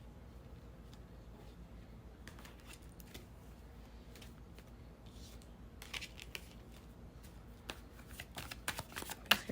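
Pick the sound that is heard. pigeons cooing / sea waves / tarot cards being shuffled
tarot cards being shuffled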